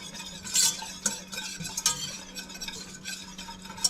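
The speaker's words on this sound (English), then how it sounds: "what you're doing here is just toasting your spices" Spices toasting in a hot pan: a low sizzle under repeated stirring scrapes and light clinks of a utensil against the pan, close and fairly loud, with no talking.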